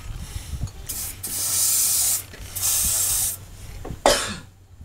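Spray bursts on a Hino 500 dump truck during leaf spring work: two long hissing blasts of about a second each, then a shorter sharp spurt, loud and close amid workshop noise with no talking.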